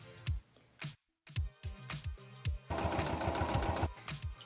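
A sewing machine stitches a cosplay chest strap in quick short bursts with brief stops, then one longer steady run, close and rhythmic.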